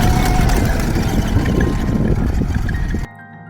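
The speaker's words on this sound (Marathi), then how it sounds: "मग आली ट्रॅक्टर राईडची वेळ" A tractor engine rumbles up close during a ride to the farm fields, a loud, steady, low chugging that cuts off sharply near the end.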